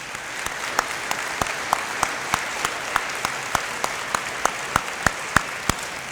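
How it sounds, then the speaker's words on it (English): Audience applause for veterans at a school Veterans Day program, a steady wash of clapping with sharper individual claps popping out at regular intervals, moderately loud and continuous throughout. "A big round of applause for all of our veterans"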